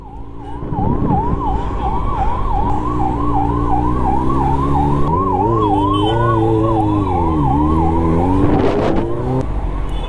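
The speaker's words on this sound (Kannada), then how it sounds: "ಸರ್ ಹಿಂದೆ ಆಂಬುಲೆನ್ಸ್ ಇದೆ ಅಂತ ಒಂದು 10 ಕಿಲೋಮೀಟರ್ ಇಂದ ಬರ್ತಾ ಇದ್ದೀನಿ." An ambulance siren wails continuously in traffic, loud and close, its repeating rising and falling sweep running over the rumble of vehicles and a lower shifting horn-like tone.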